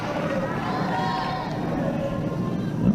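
Crowd noise at a women's college softball game, LSU vs Auburn, swells in a steady, dense murmur of disapproval after a called strike, sustained throughout and rising slightly at the end.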